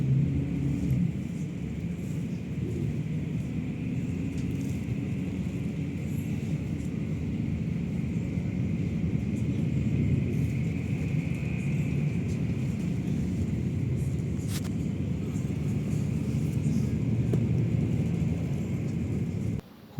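Indorent intercity bus cruising from Yogyakarta toward Jakarta at the Prambanan toll gate, a steady low engine and road rumble heard from inside the cabin for a long stretch, with no talk.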